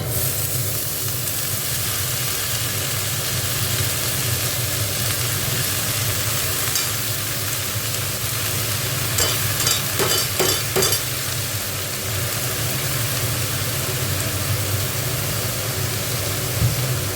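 Fenugreek leaves (methi shak) with a little turmeric fry in a pan, a steady close sizzle lasting the whole time, with a few brief scraping stirs partway through.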